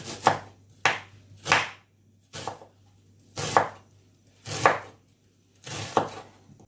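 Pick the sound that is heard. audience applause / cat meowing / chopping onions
chopping onions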